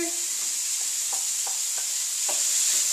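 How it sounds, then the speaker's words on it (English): Tofu stir-fried in a pan for curried scrambled tofu, a steady hiss of sizzling oil with repeated short scrapes of a spatula against the pan, close and fairly loud, no voices. "I'm just going to stir fry it"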